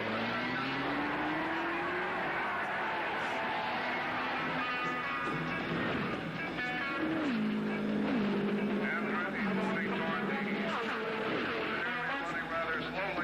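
Indy race cars of the 1968 Indianapolis 500 on the main straightaway: continuous engine roar with rising and falling whines as cars pass, mixed with crowd noise, under a narrator's voice.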